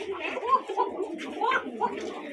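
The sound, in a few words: pigeon cooing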